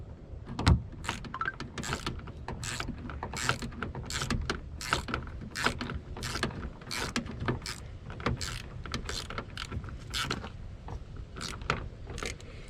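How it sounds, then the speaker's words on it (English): Rapid ratcheting clicks of a hand tool tightening a bolt inside a broken plastic Kia Sorento door handle, a close, steady run of sharp mechanical ticks repeating through the whole stretch. "So now I can go ahead and start tightening this bolt inside."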